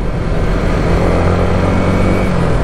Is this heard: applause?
no